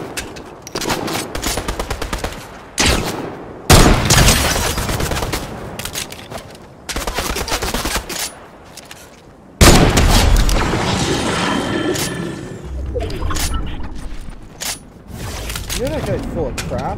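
Fortnite gunfire: loud, close bursts of rapid automatic fire and single shots in repeated volleys, with mechanical reload clatter in between and a player talking over parts of it.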